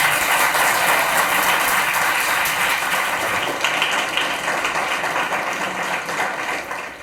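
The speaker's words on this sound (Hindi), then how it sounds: "जोरदार तालियां" Loud, sustained applause from a crowd at a road safety event in a government higher secondary school, greeting a traffic instructor; dense, steady clapping that fades slightly toward the end.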